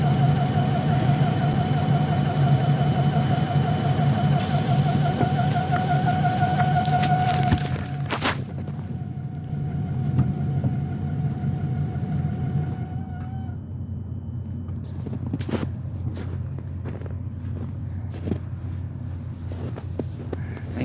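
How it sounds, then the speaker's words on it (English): A car engine idles steadily in freezing cold, a continuous low rumble with a faint tone above it; a brief knock comes midway and the engine sound carries on. No one speaks. "I had the engine running to keep the oil warm"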